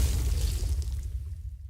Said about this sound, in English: Small liquid blowing up explosion.